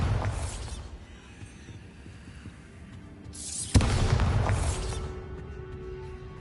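A Bombarda blasting spell detonates in Hogwarts Legacy, one sharp booming crack partway through, then a lingering rumble, set against quieter game ambience with no talking.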